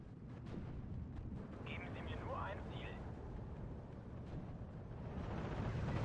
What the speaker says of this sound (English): Oh, that bombing strike just one-shot that.